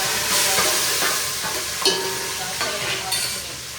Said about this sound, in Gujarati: અહીંયા આપણે વઘારમાં રાઈ, જીરું, આખા મસાલા